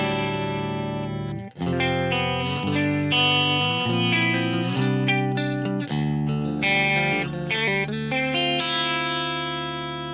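Guitar run through a TC Electronic G-Force rack effects unit on its advanced flanger setting with a very short 0.5 ms delay, playing sustained, swirling chords and lines, close and alone.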